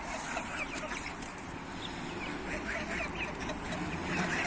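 A flock of mostly roosters with some hens clucks and chatters continuously at a distance, blending into a busy, noisy farmyard background.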